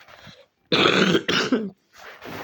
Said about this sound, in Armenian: Ֆայն հազս եկավ էլի